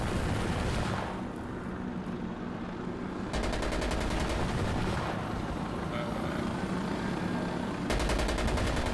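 Loud sustained gunfire and rocket blasts in the tactical shooter Insurgency: Sandstorm, a dense roaring barrage with bursts of rapid automatic fire breaking in at intervals.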